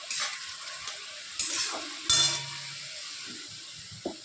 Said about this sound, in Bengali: এখন দিয়ে দেবো গোটা কাঁচা লঙ্কা।